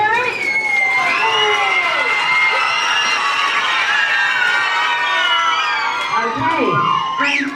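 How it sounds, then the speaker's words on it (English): A school reading contest audience, largely children, cheers loudly for the tabulators and judges, a sustained roar of high shouts and whoops with little clear clapping, rising and fading near the end. "So we want to give another big round of applause to our lovely tabulators and judges."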